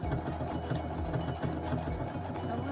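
A Viking sewing machine stitches embroidery in a fast, even mechanical chatter, close and steady for the whole stretch, with no talking.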